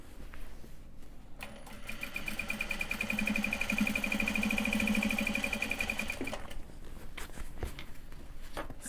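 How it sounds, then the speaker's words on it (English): A sewing machine stitches Japanese fabric bags in one steady, continuous whirring run of about five seconds, starting and stopping cleanly with quieter handling noise before and after. "Still super smooth sewing overall."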